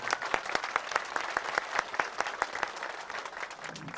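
Steady clapping from a ceremony audience greeting the Döşemealtı mayor as he comes to the microphone, a dense run of claps at moderate distance, continuous for the whole stretch with no talking.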